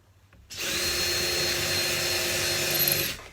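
A power drill in high gear starts abruptly and runs at a steady, loud whine for nearly three seconds before stopping, boring into timber up close.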